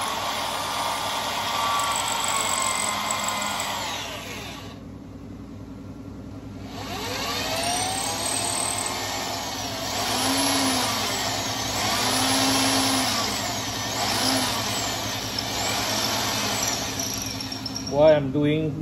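A drill bores into a sable shofar horn, a steady whirring motor with rising and falling pitch and a brief pause, close by, as someone talks over it.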